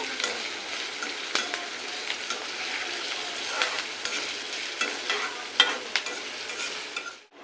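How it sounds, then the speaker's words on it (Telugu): Onions fry in oil over a high flame with a steady, close sizzle, broken by regular scraping stirs of a spatula; the sizzle cuts off abruptly at the very end. "ఇది ఫ్లేమ్ హై ఫ్లేమ్లోనే ఉంది, అట్లనే పెట్టి వేయించుకుంటున్నాను."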